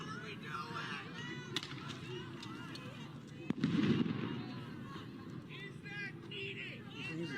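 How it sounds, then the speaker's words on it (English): A police flashbang diversion device bursts at a street protest, one loud sharp blast with a rumbling tail midway, over steady crowd noise and shouting voices. "The things that they shoot are like flashbangs that explode in the sky."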